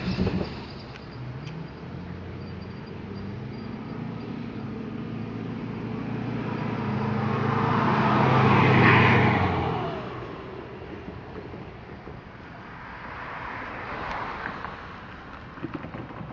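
Freight train M604 passing Baker Street Crossing in Plant City, Florida, a rumbling roar that swells to a peak midway and then fades, with wind noise on the microphone.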